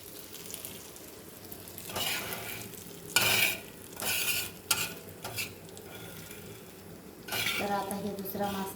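Fish sizzling as it fries in a pan, with stirring and the scrape and clink of a utensil against the pan in short bursts over steady background frying.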